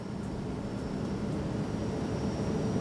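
Steady, loud broadband engine drone inside the cabin of a company airplane in flight, continuous and even throughout with no talking.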